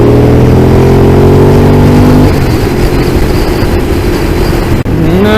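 A Ducati Monster 821 motorcycle accelerates, its exhaust rising in a loud, close drone that climbs in pitch, drops through a gear change, and then climbs again.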